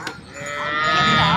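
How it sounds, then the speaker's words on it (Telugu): A cow at a cattle and buffalo market in Sardar Nagar gives a single drawn-out moo that rises and swells, fairly close and clear. "మార్కెట్లో ఇవన్నీ ఆవులు ఇక్కడ మొత్తం."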